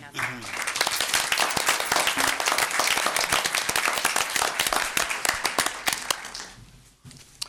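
An audience at a school board of education meeting claps steadily, dense overlapping applause for several seconds that tapers off near the end, with voices heard faintly.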